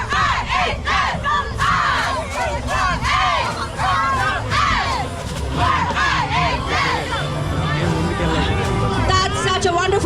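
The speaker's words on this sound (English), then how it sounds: "That's such a wonderful cheerleading." A large crowd at an Indian Independence Day parade in Fremont, California cheers and shouts continuously, loud and dense throughout, with excited voices and whoops layered over constant babble.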